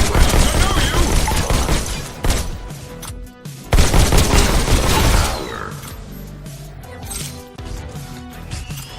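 A robot enemy's shotgun fires inside the VR shooter Robo Recall, heavy blasts and crashes overlapping with game effects and music, loud at the start and again midway, then fading to quieter action.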